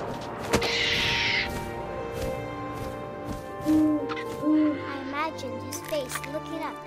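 An owl hoots in the video game What Remains of Edith Finch, a few soft calls rising over ambient game music and wind, with brief thumps and no talking.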